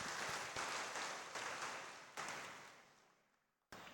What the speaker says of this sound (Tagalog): Isa pa malakas na palakpak.